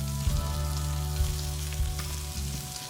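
Marinated vegetables for veg pulao are tipped into a hot kadhai and sizzle loudly and steadily, a dense frying hiss with a few bumps as pieces land and get stirred, close up with no talking.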